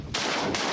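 A loud, close shotgun blast during a goose hunt followed quickly by a second one, each a sharp broadband boom.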